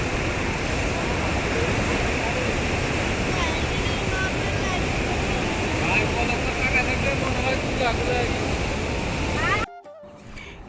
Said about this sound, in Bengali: আর এখানে জলের আওয়াজটা একবার শুনো কতটা ভয়ঙ্কর লাগছে।